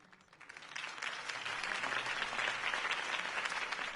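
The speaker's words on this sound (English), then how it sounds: "If only Mr. Wayne, my campaign's largest backer, could have heard that applause" A video game crowd applauds a campaign speech, the clapping swelling quickly from a few hands into a dense, steady, moderately distant ovation that carries on to the end.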